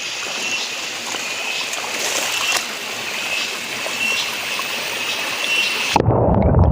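Rainwater runs everywhere during the monsoon, a steady broadband rush of flowing water that holds an even level throughout before cutting abruptly to a lower, rougher near sound at the very end.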